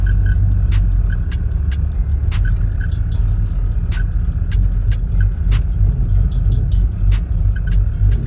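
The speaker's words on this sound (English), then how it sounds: "Let's come to the stop sign and see if it holds idle." A 1992 Chevrolet Camaro Z28 engine idles at a stop sign with a steady, loud low rumble. Faint ticking clicks are scattered over the top of it, and no one speaks.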